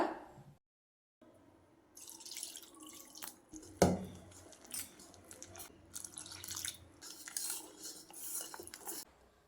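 A spoon scrapes and clinks around a bowl as wheat dosa batter and water are stirred, with wet sloshing and a sharp knock partway through.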